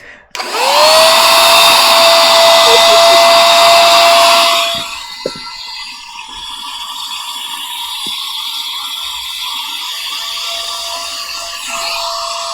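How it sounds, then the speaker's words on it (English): A small handheld vacuum cleaner sucks up cookie crumbs, starting with a loud, steady high-pitched whine that drops to a lower, quieter drone partway through, close to the recorder with no talking. "Whoa! What is that? It's a vacuum."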